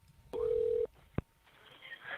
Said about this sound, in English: here's the second phone call